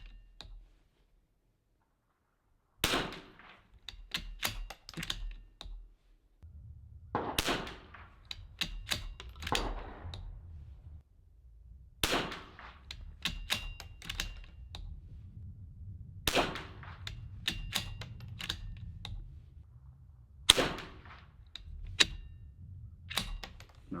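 Sharp .22LR rifle shots fired with Lapua Long Range ammunition, spaced out as single cracks with short echoes at irregular intervals, mixed with clicks of the bolt and handling noise between them.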